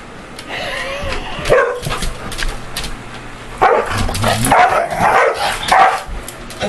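Two pet dogs play indoors, giving loud close barks, yips and whimpering growls in irregular bursts, with quieter pauses between outbursts.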